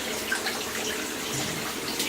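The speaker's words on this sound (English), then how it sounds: "you can see the beer running here" Homemade banana beer runs from a heated vessel into a fermenter, a steady close trickle and splash of liquid with no talking.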